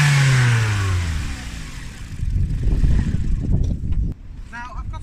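A Vauxhall Astra J exhaust revs with a thin, hairdryer-like whoosh, one falling rev followed by a rougher, rumbling burst. The sound is close and fairly loud, and no one speaks over it.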